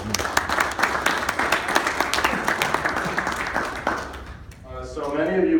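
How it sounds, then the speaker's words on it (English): Audience applause at a USA Table Tennis Hall of Fame ceremony, with distinct claps that thin out and fade over about four seconds, followed by a speaker's voice beginning near the end. "just like to give a round of applause for everyone who came"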